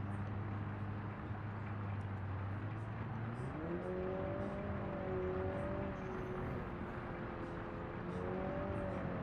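A steady truck engine hum in BeamNG.drive shifts up in pitch partway through as it accelerates, continuous and moderately quiet with a droning tone.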